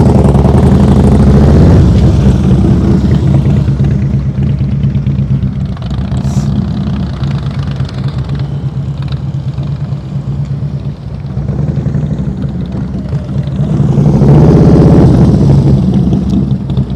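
Motorcycle engine running steadily at low speed during slow-speed riding skills practice, a continuous mid-pitched rumble that swells louder near the start and again near the end.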